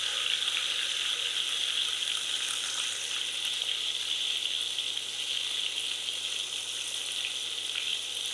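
Cumin paste sizzling in hot oil in a pan while dried loitta fish bhuna is cooked, a steady, even hiss of frying that holds without a break and stays close and fairly loud throughout.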